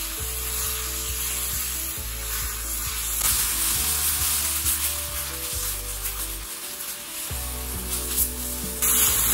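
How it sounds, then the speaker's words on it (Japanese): Green onions with garlic and ginger stir-frying over medium-high heat, a bright continuous sizzle with occasional stirring scrapes, close by and without speech. "まあ最初は中火から強火ぐらいで、ネギの方を炒めていきます。"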